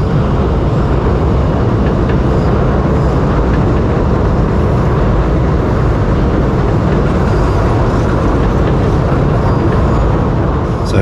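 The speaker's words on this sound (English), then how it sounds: "here comes an extrapolis set running over the viaduct. Two extrapolis sets, in fact." Two Extrapolis suburban trains running over a city viaduct in Melbourne, a loud continuous rumble and roar of wheels and carriages close by that holds steady for the whole stretch without pause.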